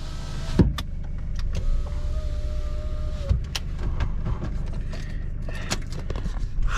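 A car's electric power window motor whirs as the window closes, a steady strained hum lasting a couple of seconds inside the cabin amid wind and rustling noise.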